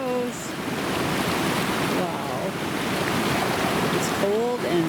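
Cold river water rushes steadily and loudly as a dog named Fitty jumps in on a mountain backpacking trip, with people talking and calling out over the flow.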